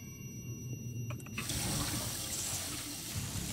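In a video game, water runs and splashes steadily from a sink tap, starting after a brief quiet moment with a few faint clicks.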